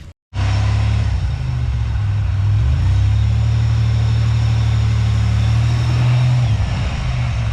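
Supercharged Pontiac Bonneville SSEi engine running loud and close, holding a steady drone with a slight rise in revs partway through after a brief cut at the start.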